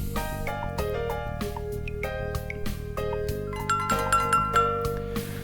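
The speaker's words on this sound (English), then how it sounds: "The restaurant's doorbell chimes as I enter" A chiming restaurant doorbell in the video game Cafe Memoria, bright bell-like tones ringing out over a steady musical backdrop, a few clear dings toward the end.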